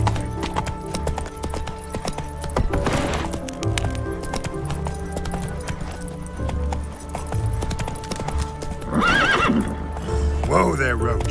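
Roach, a horse in a video game, neighs and whinnies twice over a steady clip-clop of hooves, with game music and a voice in the mix.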